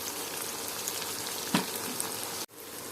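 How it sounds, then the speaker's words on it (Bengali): Onions fry in a pan with a constant busy sizzle and crackle, a brief louder spatter midway, then the sizzle abruptly dips before resuming. "পেঁয়াজগুলো বাজিয়ে দিতেছি"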